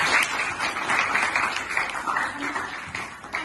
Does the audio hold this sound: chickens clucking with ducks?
no